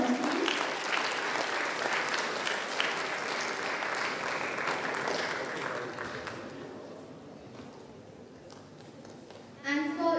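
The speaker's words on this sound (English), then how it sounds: "Can we have a round of applause, please?" Clapping from students and staff at a senior school assembly, a dense, sustained round that gradually thins and fades before a voice comes in at the very end.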